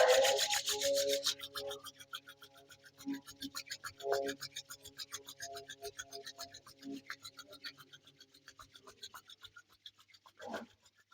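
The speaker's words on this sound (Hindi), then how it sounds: "अपने दोनों हथेलियों का घर्षण करें। Rub your hand." Palms rubbed together in a yoga session make a loud rasping friction at first, then softer repeated strokes alongside intermittent voice sounds.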